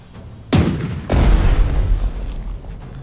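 Two heavy booms of warship guns firing at an enemy carrier in the naval strategy game Strategic Mind: The Pacific, the second blast louder with a long rumbling tail.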